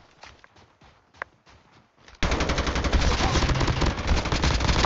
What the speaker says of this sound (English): We got shots ahead of us by the road.